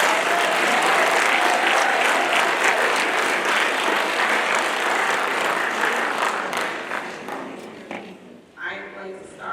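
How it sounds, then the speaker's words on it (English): A large audience at a school awards night applauds students in a dense, sustained ovation that gradually thins and fades out near the end, where a voice briefly begins to speak. "Please give these students a round of applause."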